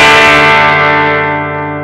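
An electric guitar played through a MOSKY Classic AC-30 amp-style pedal with treble turned to maximum rings out as one bright, sustained chord, loud and shimmering, slowly decaying with a bell-like, heavily trebly edge.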